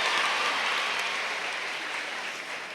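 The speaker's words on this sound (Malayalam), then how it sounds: "നമുക്കിപ്പോൾ ഒരു കയ്യടി അടിക്കാം" Sustained audience applause at a school diamond jubilee logo release ceremony, a dense steady clatter of many hands filling the hall without any voices.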